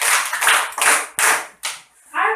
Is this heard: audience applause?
yes